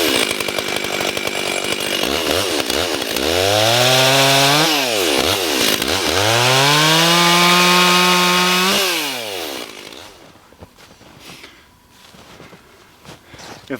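Chainsaw cutting limbs from a standing dead ash tree, loud and close, with the engine revving up and bogging through two long cuts of several seconds each, then dropping away into quieter idle and rustling.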